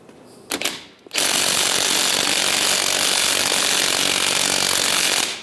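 A power impact tool with a 21mm socket spins the strut nut off a 1998-2010 Volkswagen Beetle, a couple of short bursts followed by a loud, continuous whirring rattle that runs for about four seconds before stopping.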